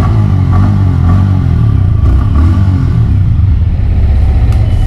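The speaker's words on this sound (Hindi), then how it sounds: "अभी मैं आपको एग्जॉस्ट नोट सुनाता हूँ।" A Yamaha R15M sport motorcycle runs loud and close, its exhaust note holding a steady, dense drone with slight rises in revs throughout, with no talking over it.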